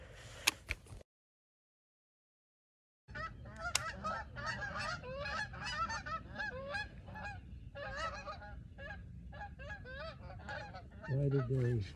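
Geese honking during a goose hunt without decoys or a blind, a flock calling in rapid overlapping honks, fairly close and continuous after a short silent gap, with faint voices.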